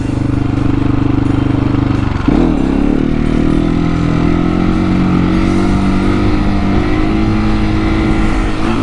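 A KTM 701 single-cylinder motorcycle roars loudly up close during a second-gear wheelie, its engine note dipping sharply and then climbing steadily as the revs build.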